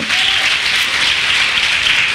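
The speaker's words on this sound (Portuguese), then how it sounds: "Aplauda-se para Jesus mesmo." Church congregation applauding, a brief burst of steady dense clapping from many people, loud and close with no voices standing out.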